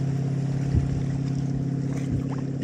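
A wake boat motor, its stern riding low in the water, drones with a steady low hum, water sloshing faintly around it.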